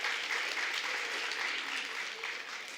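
Graduates at a college graduation ceremony give a sustained round of applause, an even, moderately distant clapping wash filling the hall without speech.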